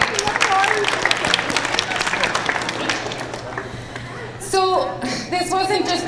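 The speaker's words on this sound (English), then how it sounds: "Give yourselves a round of applause" Audience applause at an agricultural careers presentation, a spell of brisk clapping that fades into scattered voices and chatter near the end.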